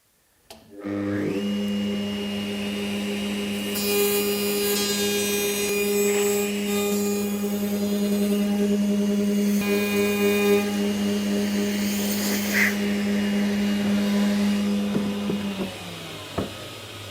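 A router table cuts a shallow groove in wood, a loud steady motor whine holding for about fifteen seconds with the cutting noise rising over it, then spinning down at the end.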